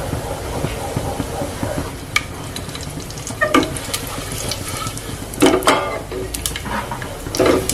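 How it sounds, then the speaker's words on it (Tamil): Whole cinnamon, cloves and cardamom frying in hot oil in a home kitchen, a steady close sizzle with occasional stirring scrapes and a few sharper crackles, no talking. "நம்ம பட்டை, கிராம்பு, ஏலக்காய் இதெல்லாம் அப்படியே சேர்த்துக்கலாம். நல்லா நல்லா பொரியணும் நல்ல எண்ணெயில."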